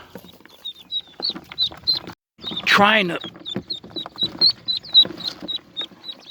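Baby ducklings squawk with rapid, repeated high peeps near a pond, close and fairly loud, broken by one louder raspy call and a short burst of human speech.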